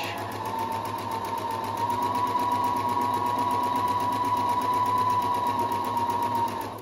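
A Husqvarna 330 electronic sewing machine runs a straight stitch through chiffon, a close, even mechanical whir with a high whine that holds steady for several seconds before easing off.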